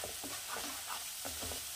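Turmeric being stirred into a pan over a low gas flame for a Bengali fish curry, soft scraping strokes repeating under a steady low sizzle, close and quiet, with no voices.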